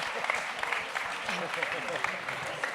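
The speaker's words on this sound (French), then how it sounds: "Et on les applaudit." An audience applauds at the Prix RESSOURCES 2023 awards ceremony, a steady, even clatter of many hands that holds at a moderate level from start to finish, with voices faintly mixed in.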